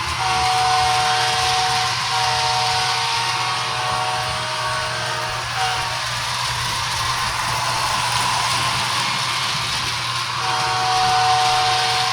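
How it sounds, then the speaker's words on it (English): Two high-speed model trains run along a track with a steady whirring hum and a constant hiss, unchanging for several seconds with no voices. "now we got two high-speed trains moving at once."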